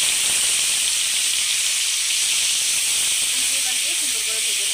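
Dried gagla fish frying in hot oil in a kadai, giving a loud, dense, continuous hiss and sizzle close up, with no talk over it.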